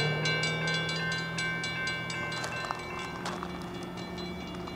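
CSX I-166 freight train rolling past a crossing, a steady rumble with faint rhythmic wheel clicks at moderate distance and a few sharper knocks, continuous throughout with no voices.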